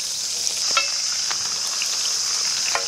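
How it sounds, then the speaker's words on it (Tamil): Chopped onions go into hot oil with crackling mustard seeds on a tawa for a spicy chicken liver curry, giving a steady close sizzle with occasional sharp pops and stirring scrapes throughout. "அடுத்தது கட் பண்ணி வச்ச வெங்காயம் சேர்த்துக்கலாம்."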